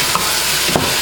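Tomatoes sizzle in a hot pan while being stirred for a collard greens dish (sukuma wiki), a steady close frying hiss with two soft scraping stir strokes and no talk.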